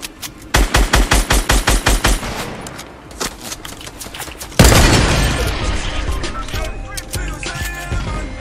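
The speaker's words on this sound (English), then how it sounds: "No scope sniper shot." Gunfire in the video game Fortnite, with a no-scope sniper shot: a fast burst of loud, evenly spaced shots, then a single heavy boom followed by a noisy, echoing tail with scattered game effects.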